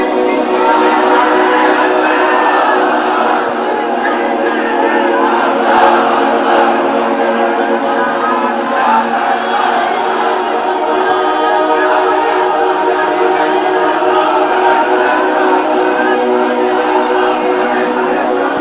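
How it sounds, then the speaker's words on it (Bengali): A large crowd at a Bangladeshi waz sermon answers with takbir, a loud, sustained roar of many voices shouting together that stays dense for the whole stretch. "তাকবীর দেন তো একজন আওয়াজ করে"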